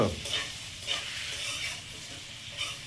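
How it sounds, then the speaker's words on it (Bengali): Soybean chunks and potatoes fry in a pan, a soft steady sizzle broken by a few scraping stirs of the spatula, close and fairly quiet. "আলুটা ভেজে নিয়েছি, এবার সয়াবিনটা দিয়ে আর একটু ভেজে নেব।"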